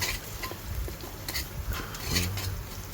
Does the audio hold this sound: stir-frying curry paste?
yes